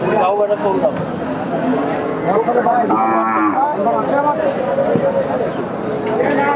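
Cattle lowing at a busy rural cattle market in Hazratpur, a drawn-out moo rising around the middle against a constant backdrop of crowd chatter and voices nearby.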